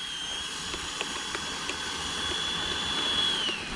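A Horizon Hobby F-16 RC jet's electric ducted-fan motors run in reverse thrust on 22.4 volts, a loud, steady high-pitched whine with a rising tone near the end, heard close and without talking.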